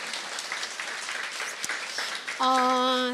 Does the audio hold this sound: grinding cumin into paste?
no